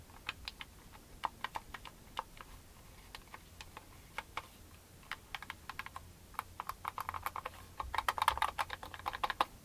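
Quiet, irregular clicks of buttons pressed on a Play X RS-5 imitation DualSense wireless controller, single taps at first, then quicker clusters near the end.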